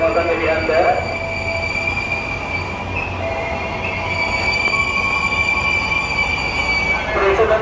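A commuter train rolls into a station platform with a steady rumble and high, drawn-out wheel squeals and screeches, loud and close, continuing throughout.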